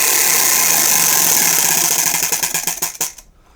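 A book-choosing spinner wheel whirs with a dense rush of ticks that slow into distinct, spaced clicks before it stops near the end.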